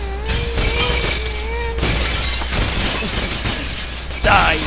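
Glass shattering in the Happy Wheels video game, a loud, dense crash of breaking shards that sustains over several seconds with a burst near the end, mixed with game sounds.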